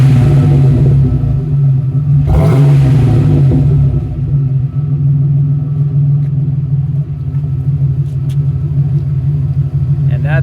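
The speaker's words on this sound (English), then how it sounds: "that's what the exhaust sounds like with that muffler, dual pipes" Exhaust from a 1988 Ford Bronco II fitted with a Flowmaster 44 dual-exit muffler and 3-inch stainless pipes rumbles loudly at idle, with one brief sharp rev early on before settling back into a steady deep burble.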